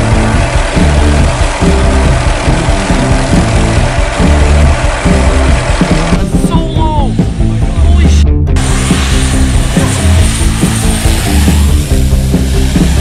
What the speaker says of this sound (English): Helicopters might be massive and loud, but that doesn't mean they can't do detailed work like this.